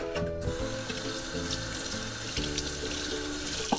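Green beans rinsed under a running kitchen tap: steady, close splashing of water into a sink that continues throughout, with no voices.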